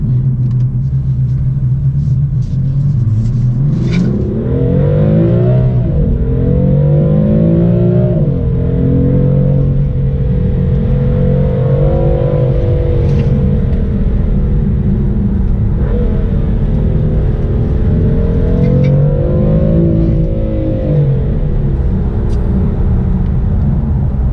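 BMW F82 M4 engine rumbling and revving on the road, a loud, steady drone that climbs and falls in pitch through several rises as the car accelerates, heard from inside with no talking.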